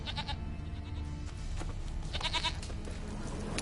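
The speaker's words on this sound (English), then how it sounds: "Here, goat." A goat bleats a few times in The Witcher 3: Wild Hunt, short wavering calls over a steady game ambience with no talk.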